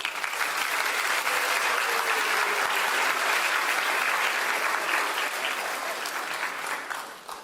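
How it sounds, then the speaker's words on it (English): A crowd applauds steadily and loudly for the full stretch, a dense wash of clapping that only begins to thin toward the end. "give her another round of applause"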